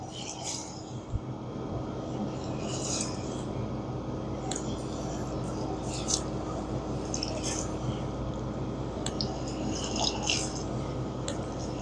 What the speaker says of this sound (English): Oh, our oil is hot. So what you want to do now, you put the plantain in there.